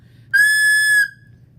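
A recorder overblown with fast, hard breath gives one loud, shrill, squeaky note that holds for under a second and then cuts off.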